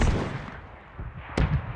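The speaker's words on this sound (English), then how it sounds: "They're shooting back." Gunfire in the battle royale game PUBG, a few distant muffled shots with one sharper crack near the end, no voices.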